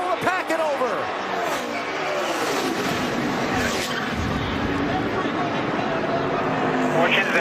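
NASCAR race cars roaring at speed and making contact, with a scrape and skid amid loud engine drone and crowd noise, while an announcer talks over it throughout.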